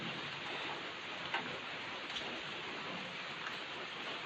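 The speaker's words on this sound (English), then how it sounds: "Wow, nice rain." Rain falls steadily in an even, soft hiss of drops with a few brief louder ticks, with no talk heard.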